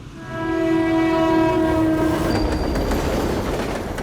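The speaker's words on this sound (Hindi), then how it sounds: "1 घंटे में अहमदाबाद एक्सप्रेस निकलेगी" A passing passenger train sounds a long, loud, steady horn blast up close, then the horn stops and the rumbling clatter of wheels on track carries on alone.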